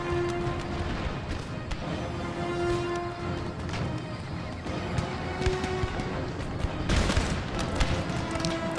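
Musket volleys crackle in the Empire Total War game as troops fire on enemy horsemen, with repeated ragged bursts over a dense battle din and steady tonal music, the loudest volley near the end.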